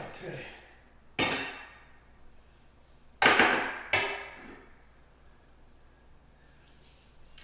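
Prying an aluminum flanged window frame loose from a brick house wall with a pry bar: three sharp metallic cracks and scrapes, spaced apart and fairly close, with quiet pauses between them.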